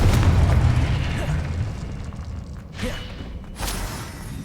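In the video game Hogwarts Legacy, the Confringo spell goes off with a loud, booming explosion that rumbles and then fades. A few smaller bursts follow over the next few seconds.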